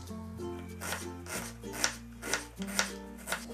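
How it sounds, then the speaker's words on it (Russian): A kitchen knife finely chopping an onion on a board for a mushroom filling, with about six crisp, evenly spaced cuts heard over steady background music. "Теперь нарежу мелко луковицу."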